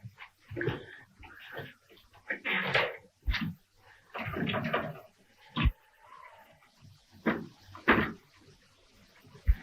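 In a 1932 old dark house film scene, a door handle is rattled and tried several times against a locked door, giving sharp knocks and clunks between stretches of talking.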